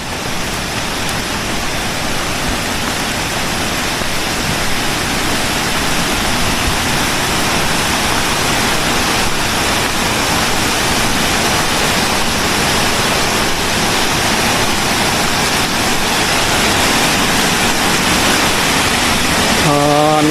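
A low-flowing stream rushes steadily across a rocky water crossing on the trail near Kondana Caves in Karjat. The water makes a continuous, close, even roar throughout, with no break and no one talking over it.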